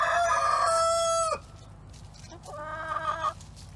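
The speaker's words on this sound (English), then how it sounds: "She's a Buff Orpington." A Buff Orpington hen gives loud, drawn-out clucking calls, then after a short pause a second, fainter series of squawking clucks, heard close and alone.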